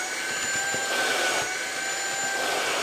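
An Ultenic U12 Vesta vacuum cleaner runs on a rug with a steady, close, loud whine and airy rush, holding an even drone with small bumps as it moves over the pile.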